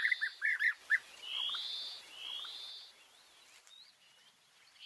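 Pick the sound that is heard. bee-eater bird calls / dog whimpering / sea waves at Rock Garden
bee-eater bird calls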